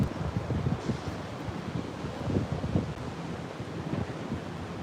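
Wind gusts batter the microphone on a city street, producing a steady, loud roaring rumble with irregular low buffeting surges throughout.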